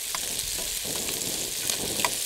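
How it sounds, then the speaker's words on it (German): Pike fillet and mushrooms, with crisp bacon, frying in a pan, giving a steady close sizzle with small crackles and pops throughout, no voices over it. "Jetzt lassen wir ihn noch ein bisschen hier auf der anderen Seite anbraten."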